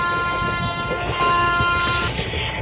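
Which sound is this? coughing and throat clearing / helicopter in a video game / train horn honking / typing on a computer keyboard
train horn honking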